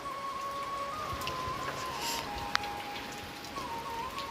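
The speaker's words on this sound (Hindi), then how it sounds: "बहुत खतरनाक बारिश हो रही है" Heavy rain falls steadily outside as a dense, even wash of patter, with a brief sharp tap midway and faint tonal hums running underneath.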